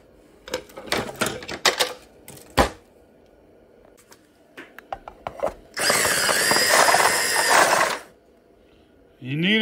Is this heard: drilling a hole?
yes